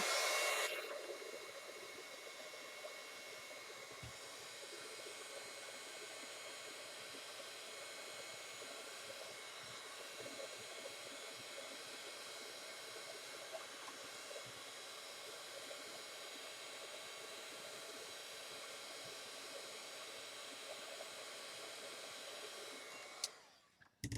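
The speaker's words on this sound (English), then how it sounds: "I'm going to have to use my heat tool real quick on this one." A craft heat gun blows steadily on a card, giving a continuous loud whooshing hiss that runs for about twenty seconds and then cuts off, with no voices over it.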